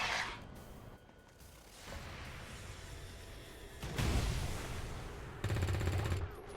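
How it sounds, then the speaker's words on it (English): In the XCOM Long War of the Chosen video game, a ballistic SMG fires short bursts of gunfire with mechanical clatter. Several quiet, loud-edged bursts cut through a faint game soundscape. "Ballistic SMG wrecked that sectoid."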